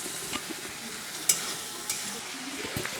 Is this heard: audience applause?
no